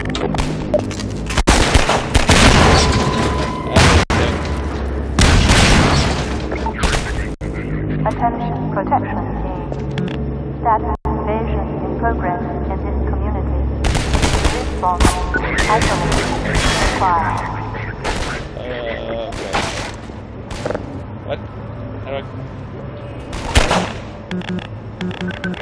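Half-Life 2 combat, with repeated bursts of gunfire and heavy explosive blasts arriving in irregular clusters. The action is loud and close, and a voice talks over it at times.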